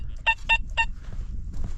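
A metal detector sounds three short, evenly spaced electronic tones in quick succession while searching an old inn site for iron and other finds, then falls quiet against faint low background rumble.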